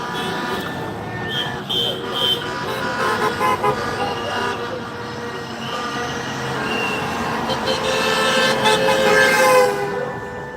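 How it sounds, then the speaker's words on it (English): Car horns honk repeatedly at a street protest in Saint Paul, a dense, sustained blare of overlapping tones amid crowd and traffic noise, with voices in the mix, growing fuller toward the end. "See a lot of people honking"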